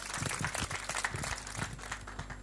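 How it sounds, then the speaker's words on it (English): A crowd at a Glo brand-ambassador unveiling event claps in dense, steady applause that carries on throughout at an even level, with no voices rising above it. "Give Mr. Chuka a round of applause"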